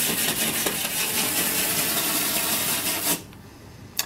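A rivet brush scrubs adhesive film against a lightly textured painted wall in a steady, dense rasping rub that lasts about three seconds, then stops, followed by a single faint tap.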